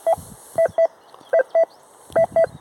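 Short electronic beeps from a metal detector repeat in clusters of two or three, clear and steady in pitch, separated by brief quiet gaps, with no talking.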